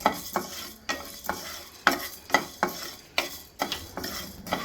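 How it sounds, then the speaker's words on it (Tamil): Coriander seeds dry roasting in a pan are stirred with a utensil, making a rhythmic series of scraping, rattling strokes about every half second, close and fairly quiet, with a faint sizzle beneath. "தனியாவை போட்டு கொஞ்சம் வறுத்துக்கோங்க"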